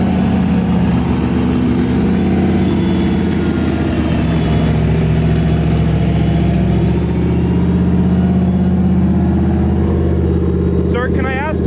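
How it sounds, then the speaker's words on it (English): Engine of an extensively modified single-turbo car with a 5.3 V8 block, idling loud and steady at a car meet, with a faint blip toward the end and crowd chatter mixed underneath. "Another HPC car sounding pretty extensively modified."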